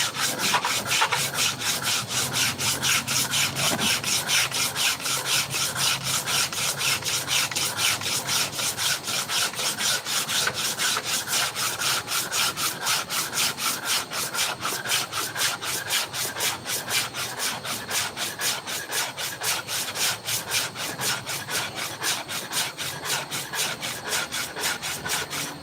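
Wood being hand-sanded with coarse 60 or 80 grit sandpaper: fast, steady back-and-forth rasping strokes, close and loud, running without pause the whole time with no talk.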